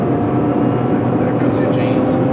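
A 2017 Nissan GT-R under full-throttle acceleration, its engine a steady, loud, dense drone from inside the cabin, with a voice speaking over it.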